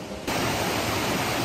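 Shiraito waterfall in Japan gives a steady, dense roar of falling water that starts abruptly after a brief quieter moment and stays loud and even, with no voices.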